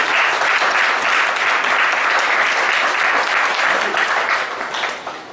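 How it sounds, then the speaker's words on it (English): Audience at a GST technical session conference applauds a presenter receiving a memento, steady loud clapping sustained for several seconds before tapering off at the end. "Big round of applause."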